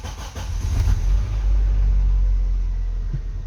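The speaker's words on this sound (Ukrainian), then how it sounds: "Так, Завиївся автомобіль." A Geely CK car engine, raised on jacks after a gearbox repair, catches and settles into a steady low idle rumble, loud and close, with no voices.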